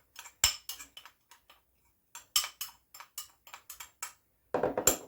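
A series of light clinks and scrapes, like a utensil mixing seasoning in a bowl for Jamaican fried fish, comes in irregular bursts between short quiet pauses.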